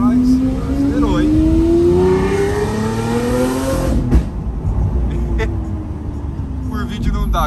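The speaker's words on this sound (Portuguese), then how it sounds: "tem outra Ferrari lá atrás, acelerou, hein" A Ferrari supercar accelerates in a convoy of supercars including a McLaren 720S and a Huracán on city streets, a rising engine note climbing then fading as it passes, with people talking over it.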